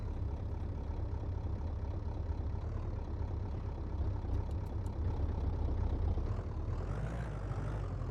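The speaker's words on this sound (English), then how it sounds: "Okay, start it up, diesel engine." Diesel truck engine in the My Garage video game runs at a steady, loud, rumbling idle throughout, with a slight rise in tone near the end.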